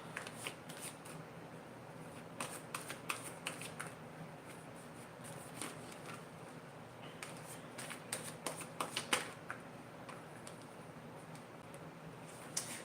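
Playing or tarot-style cards shuffled by hand in a quiet room, a run of soft riffling flutters and taps coming in uneven bursts, close and fairly faint with no talking.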